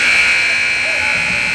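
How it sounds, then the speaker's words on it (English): A loud, sustained ice hockey game-end buzzer blares continuously for the whole moment, steady and unbroken, with crowd noise beneath it. "And there is your buzzer."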